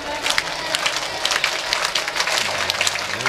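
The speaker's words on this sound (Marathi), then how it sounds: "मुखातून विठ्ठल विठ्ठल म्हणायचं आणि हाताने टाळी वाजवायची" A kirtan audience claps along while chanting the name Vitthal, a loud, slightly ragged run of sharp, closely spaced claps with voices mixed into the crowd noise.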